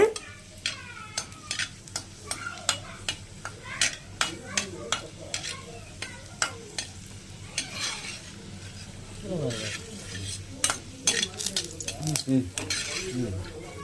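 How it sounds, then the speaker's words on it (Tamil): Four cloves of garlic and a piece of ginger fry in a pan, a steady sizzle broken by frequent clinks and scrapes of a spoon stirring against the metal, fairly close, with no voices. "4 பல்லு பூண்டு அப்புறமா ஒரு துண்டு இஞ்சி போட்டு நம்ம வறுத்து எடுத்துக்கலாம்."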